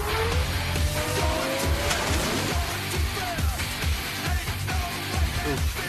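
Indy race cars in a Stallone movie trailer, loud roaring engines with rising and falling pitch, tire squeal and skidding under a dense, continuous mix of trailer music and effects.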